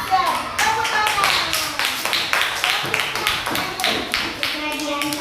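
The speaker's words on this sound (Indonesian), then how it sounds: "Tepuk tangan" Rhythmic group clapping in a classroom during a Bible lesson, sharp close claps in a steady patterned beat, with children's voices mixed in.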